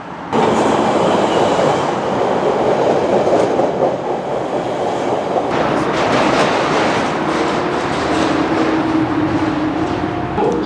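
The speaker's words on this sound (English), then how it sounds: "Here comes the train right now." A Chicago CTA train rumbles loudly into a station nearby, wheels clattering and a faint squeal rising as it slows, with no talking.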